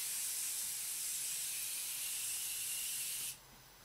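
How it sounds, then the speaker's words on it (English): A steady, bright hiss of a Morphe Continuous Spray face mist runs continuously for a few seconds, then cuts off abruptly, leaving quiet room noise. "add some Morphe Continuous Spray Mist to my face"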